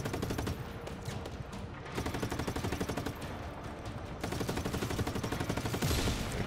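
Enemy gunfire in the open-world game Just Cause 3 crackles in rapid bursts of automatic shots, fairly faint and continuous, with no talk.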